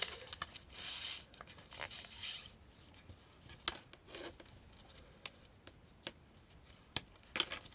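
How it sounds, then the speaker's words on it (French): Paper is creased and folded in a series of short rustles and crisp snaps, close by and with no one talking. "on plie tous les plis"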